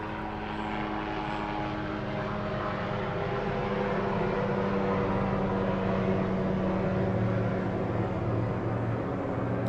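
Loud propeller airplanes flying overhead, a continuous heavy droning roar that swells slightly and stays dominant throughout with no voices.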